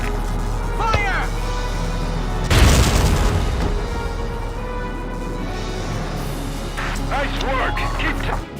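Artillery fire in the Valkyria Chronicles video game: one heavy booming blast that rolls out over a couple of seconds, set against a steady game soundscape with music and effects.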